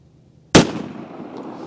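A single .22 Magnum pistol shot with Speer Gold Dot ammunition, one sharp loud crack followed by a short decaying outdoor echo, alone without talk.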